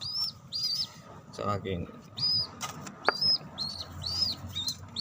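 Tippler pigeons flapping their wings in repeated bursts, with coos and chirping calls recurring throughout, close by, as a person talks intermittently.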